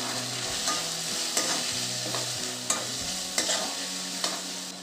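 Red chili powder, coriander-cumin powder and turmeric are stirred and sautéed in oil in a pan, a steady close sizzle with periodic scraping strokes of a spoon against the metal and no talking.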